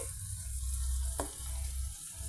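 A fried ragi and semolina mixture is tipped into a hot pan for ragi upma, giving a steady close sizzle with one brief scraping clatter partway through. No one speaks.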